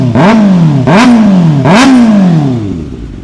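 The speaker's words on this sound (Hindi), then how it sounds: "एक बार आप आवाज़ सुन लीजिए इस बाइक की।" Kawasaki ZX6R sport motorcycle with its original exhaust, revved three times in quick succession, each blip rising sharply then falling away, loud and close with a rough throaty tone, ending in a settling idle.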